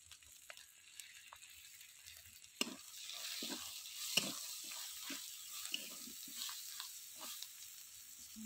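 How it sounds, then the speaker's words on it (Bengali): Spiced masala with chopped tomato, salt and a little water fries quietly in a pan while being stirred, faint sizzling under sporadic scrapes and clicks of the spoon against the pan. "দিয়ে মশলাটা কষিয়ে নেব"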